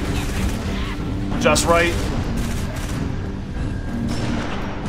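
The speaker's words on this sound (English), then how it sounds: "Throwing a frag on those guys below you." Grenade blast and gunfire in a first-person shooter, loud bursts of shots and a heavy boom mid-clip under continuous game noise, with a voice speaking briefly over the action.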